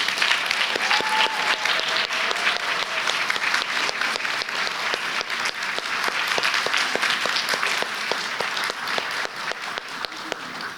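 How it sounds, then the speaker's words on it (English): Sustained applause at a university MFA commencement ceremony for families and supporters, a dense, steady patter of many hands with individual claps standing out, continuing evenly throughout. "So please, students, let's applaud them."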